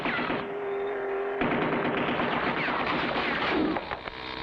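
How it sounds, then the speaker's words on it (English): Rapid gunfire from a gun turret in an animated action cartoon, a loud continuous burst of shots and blasts filling the whole stretch without pause, with no one speaking over it. "they're firing on us from the gun turret"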